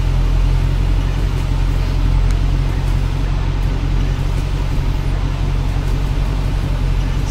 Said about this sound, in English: But here's my buddy Mullet from work giving him a ride down the drag strip.